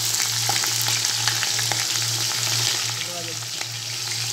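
Onions fry in a pan for a yogurt okra dish, giving a steady, close sizzle with occasional stirring scrapes and a low hum underneath, with no talking.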